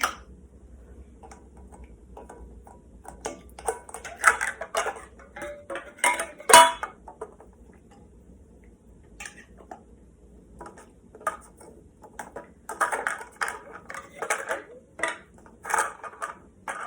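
Metal canning jar lids, three wide-mouth and the rest regular-mouth, lifted out of a pan one by one, giving sparse light clinks and ticks against a quiet kitchen background.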